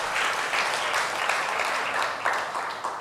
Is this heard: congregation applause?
yes